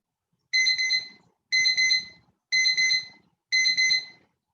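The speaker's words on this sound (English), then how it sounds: "I used my teacher timer today instead of the Tibetan bowl." A teacher timer alarm rings in four evenly spaced electronic beeping bursts, loud and steady, each lasting under a second with short gaps, sounding during a quiet Kripalu yoga session.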